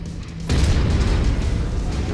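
Mech weapons fire in the video game MechWarrior 5, a deep booming blast kicking in abruptly and rumbling on loud, with a low hum underneath.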